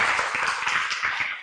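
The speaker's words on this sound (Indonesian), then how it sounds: "Berikan tepuk tangan." A class of students clapping together, a brief burst of quick, close handclaps with a slightly uneven rhythm and no talking.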